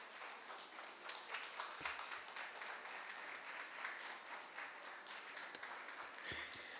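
Audience applause at an Onam cultural program as a prize is handed to a Kathakali singer, a steady wash of many hands clapping at moderate distance, fairly faint and continuous throughout.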